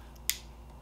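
A single sharp click from the dial of Act Fire electronic ear muffs switching on and off, close and brief, standing alone against a quiet background.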